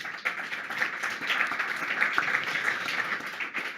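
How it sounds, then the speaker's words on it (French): An audience applauds at a public real estate round-table event in Rennes, with steady, dense clapping that holds evenly for about four seconds. "Vous pouvez d'ailleurs vous applaudir."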